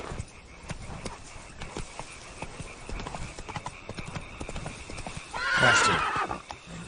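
A horse gallops in The Witcher video game with rapid rhythmic clip-clop hoofbeats, then lets out a loud whinny near the end.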